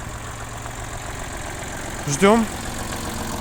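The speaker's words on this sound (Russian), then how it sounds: "Поэтому вот такой вот тракторочек у нас есть." An ISEKI TU165 compact tractor engine idling with a steady low throb, heard close and continuously while someone speaks a word briefly over it.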